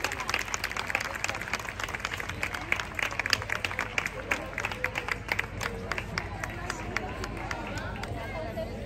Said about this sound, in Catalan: Sisplau, tothom que rebi el Drac Nomar amb un fort aplaudiment.